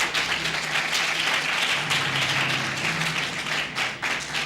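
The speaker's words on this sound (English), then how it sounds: "Let's give them a round of applause." An audience at a university campus event applauds sponsors, a dense, steady wash of clapping from many hands filling the whole stretch at close, even loudness without pause.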